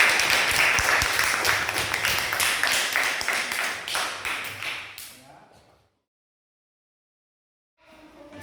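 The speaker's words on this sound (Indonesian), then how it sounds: "Ya, tepuk tangan untuk kelompok 2" Classroom applause for a student group during a teaching practice lesson, a burst of clapping that fades out into silence before faint room sounds return.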